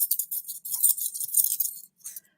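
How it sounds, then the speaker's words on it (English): Coins shaken inside cupped hands make bright, tinny jingling in quick, rattling bursts, close and moderately loud, with a short pause before a final shake. "put these coins in your hand, cover them, and shake them."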